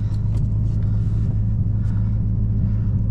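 Deep, steady engine rumble from a modified 2001 Chevrolet Corvette Z06, heard loud and close from inside the cabin, continuous low drone without talking.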